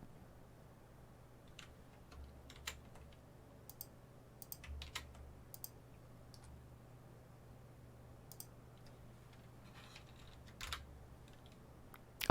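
Sparse, irregular keystrokes on a computer keyboard during a programming session, faint and close, with scattered clicks and short pauses rather than steady typing.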